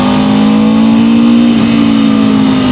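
An Aprilia RSV4 Factory V4 motorcycle engine holds a loud, steady, close high-rev drone, with pitch shifting slightly as the revs are worked up and down, no voices.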